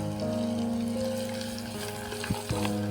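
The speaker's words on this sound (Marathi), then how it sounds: "आता जिरं टाकल्याच्या नंतर लगेच टाकायचं आहे लसण जिऱ्याची पेस्ट" Garlic and cumin paste frying in a pan right after cumin seeds for a rustic black-gravy dal fry, a steady close sizzle with a couple of stirring knocks near the end.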